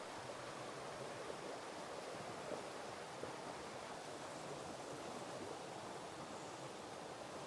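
A stream flows right beside a house in Ban Pa Miang, Lampang, giving a soft, steady wash of rushing water that stays faint and unchanged throughout, with no voices.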